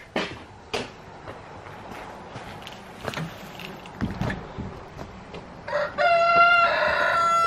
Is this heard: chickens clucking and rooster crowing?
yes